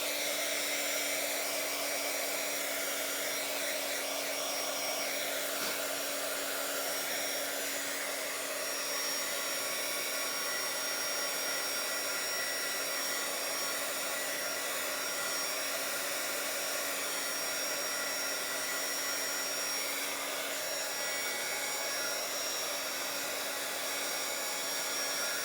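A hair dryer blows steadily and loudly at close range to dry paint on journal pages, producing a constant unbroken whir with no speech.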